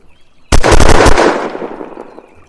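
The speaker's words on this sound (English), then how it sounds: "Pretty sure there's a machine gun." Machine gun fire in the Unturned video game: a sudden close, loud burst of about half a dozen rapid shots that echo and die away into quiet, with no talking.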